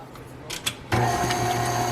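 A stand mixer fitted with a paddle attachment blends ingredients, starting abruptly partway through as a steady, loud mechanical whir with a constant motor hum after a few faint knocks.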